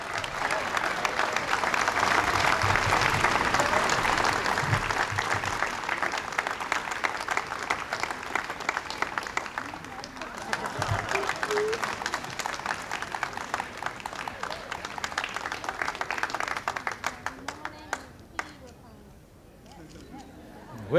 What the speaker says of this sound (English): How about one outstanding ovation for all of them?